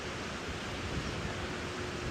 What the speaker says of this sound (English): with the wind it'll drive the waves higher.